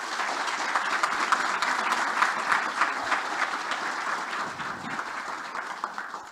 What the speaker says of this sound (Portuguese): uma salva de palmas para Eduardo Matos.